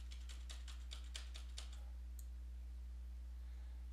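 A computer mouse clicks during image editing, a quick run of about eight faint, close, evenly spaced clicks followed by one last click, over a low steady hum.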